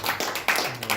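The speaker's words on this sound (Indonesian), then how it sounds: "Tepuk tangan buat kita semua." Clapping from an audience at a business presentation, brief and fairly close, with a few uneven bursts over about a second.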